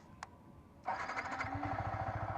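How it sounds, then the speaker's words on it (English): A Yamaha R15 V3 motorcycle engine starts with a short electric cranking whir, then catches and settles into a steady, close, even idle with a regular low thrum, no voices. "if you turn on the bike"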